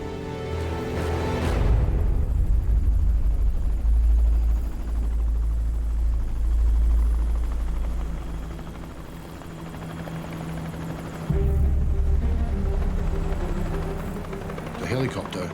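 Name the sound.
helicopter approaching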